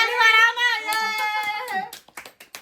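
Several quick hand claps ring out near the end, following a stretch of voices at a family birthday celebration where gifts are being opened.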